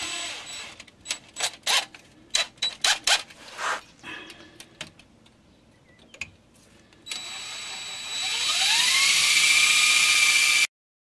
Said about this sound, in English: Let me start drilling that out.